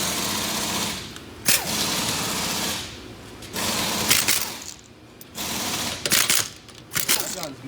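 A quiet air impact gun runs in several bursts of a few seconds each, sharp onsets separated by brief lulls, in a garage while a Honda CR-Z gets a K-series swap and a right-hand-drive Integra K20 is repaired.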